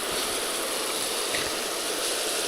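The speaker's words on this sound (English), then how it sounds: "So, let's fill up the water" Water pours steadily from a container as a bird water dish in a garden is filled up, a continuous broadband rushing splash that stays even and close throughout.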